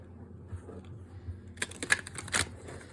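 Brief riffle of tarot cards being shuffled on a small table, a quick flurry of crisp flicks near the end after a quiet moment.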